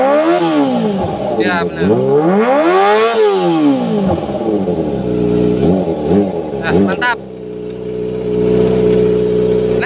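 Kawasaki ZX25R motorcycle with an aftermarket exhaust revving hard in repeated rising and falling bursts, then holding a steady high idle, loud and close, with brief talk over it.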